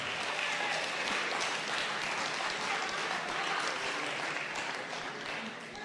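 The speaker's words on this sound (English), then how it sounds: "If everybody can give him a round of applause." Audience applause at a community water summit in Wolfeboro, a dense wash of clapping that holds steady for several seconds, then fades slightly toward the end.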